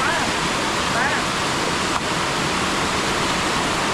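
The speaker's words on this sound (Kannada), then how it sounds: "ನೋಡ್ರಿ ನೀರು ಎಷ್ಟು ಚಂದ ಬೀಳ್ತಾವೆ" Water pouring down Chorlagundi Falls near Kanakumbi, Belagavi, a dense, steady hiss and roar close at hand, continuous throughout with a faint whistle-like chirp briefly audible above it.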